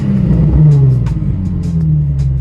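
Nissan 350z engine running after an ignition coil replacement to fix a misfire, a steady low rumble with slight revving swells, alone and close.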